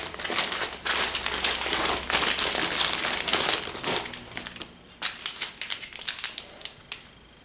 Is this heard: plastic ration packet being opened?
yes